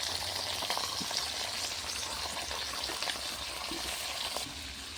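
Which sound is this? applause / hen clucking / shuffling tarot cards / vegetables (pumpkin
vegetables (pumpkin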